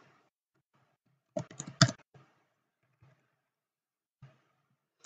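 Computer mouse clicks during work at a desk, a few sharp, close clicks in a short cluster with isolated single clicks later, otherwise quiet.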